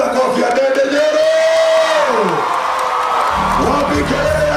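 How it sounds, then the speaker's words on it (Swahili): Crowd cheering, whooping and shouting for a politician at a students' career fair in Murang'a East, loud and continuous with yells and voices throughout. "Wapi makofi ya Ndindi Nyoro"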